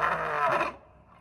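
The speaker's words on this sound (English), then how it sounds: "Why do lions roar?" A lion roars loud and close for under a second, the sound cutting off abruptly into a quiet tail.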